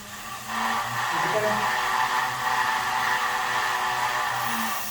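An indoor bike trainer gives a steady mechanical whir close by, rising quickly and holding at a constant high pitch like a machine spinning hard as the rider pushes.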